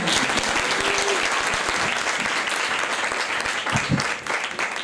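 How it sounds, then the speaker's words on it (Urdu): Church congregation gives strong applause, a dense, loud burst of clapping up close that stays steady and then starts to thin out toward the end. "زوردار تالیاں خدا کے"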